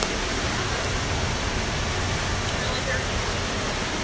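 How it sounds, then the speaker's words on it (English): Water from a pool filter being backwashed, flushing out after a deep enzyme and phosphate-remover purge: a steady, broad, even rush with no breaks throughout. "We are currently backwashing this filter."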